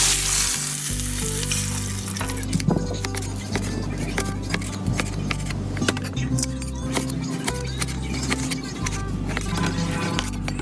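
Pork grills on a hot surface for a spicy Isan-style dish, with a continuous close sizzle and crackle, a low steady hum underneath and occasional light metal clinks.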